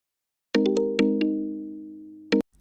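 A short electronic phone ringing tone on speakerphone plays twice with sharp chiming onsets and a lingering hum between, clear and close, with no talking.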